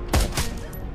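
Gunfire in the video game Shadowrun: Hong Kong, two loud close shots about a quarter second apart, followed by a fainter third report at the end.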